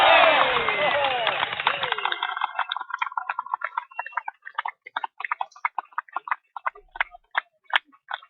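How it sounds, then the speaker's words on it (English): A canned applause sound effect bursts in loud with dense crowd clapping, then thins over several seconds into scattered individual claps that trail off. "I just did an applause."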